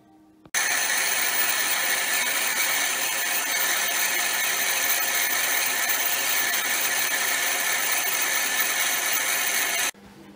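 A Myford ML7 lathe cuts a thread, a steady, loud whirring machine drone that starts abruptly and runs without break before cutting off near the end.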